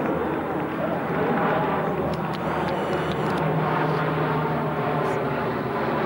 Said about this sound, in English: Got 1, 2, 3, 6 planes.